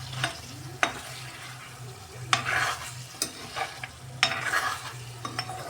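Mutton fry with coriander sizzles in a pan while a utensil stirs and scrapes it in irregular close strokes, with occasional sharp clinks and no voices.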